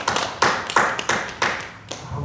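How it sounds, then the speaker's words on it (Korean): Sharp, irregular claps and thumps from a congregation during an early-morning church service, several loud hits spaced across the moment, close and clear with no talk over them. "하나님 영광의 박수."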